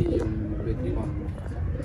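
Soft repeated cooing of pigeons perched on top of lights, low rhythmic calls close by, with people talking over them.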